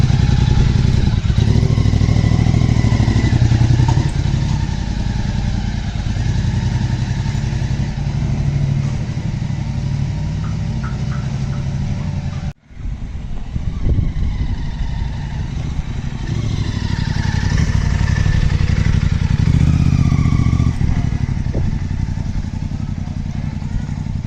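A Royal Enfield Interceptor 650 motorcycle with a swapped exhaust runs and revs steadily for a long stretch, loud and close, briefly cutting out midway before roaring back up.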